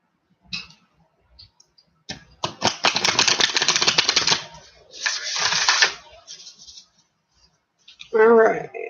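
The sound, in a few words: tarot cards being shuffled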